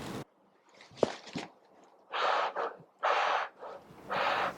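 Breathing through an N95 face mask, with several distinct, fairly loud breaths pulled in through the filter material, each a harsh airy rush separated by quieter pauses.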